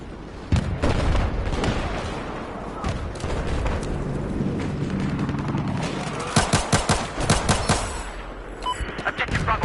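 Battlefield 4 hardcore multiplayer combat fills the scene with dense, continuous gunfire, rapid machine-gun bursts and booming explosions, loud and unbroken throughout, with clusters of sharp shots near the end.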